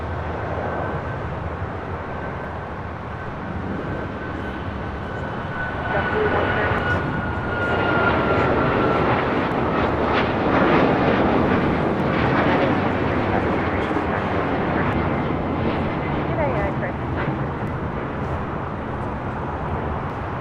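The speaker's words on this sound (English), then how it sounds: "Neo coming in from Philadelphia, flight 267." An Airbus A320neo on flight 267 from Philadelphia arrives at Los Angeles airport, its jet engines rising into a steady, moderately loud roar with a faint whine, while voices talk faintly underneath.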